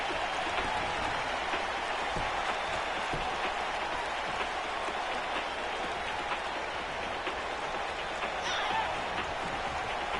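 Dense crowd applause in a WWE wrestling video game fills the whole stretch, even and continuous, like a large audience clapping at a distance.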